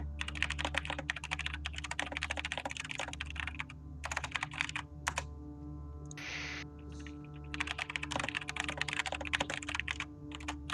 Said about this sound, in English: Aggressive typing, not MP3.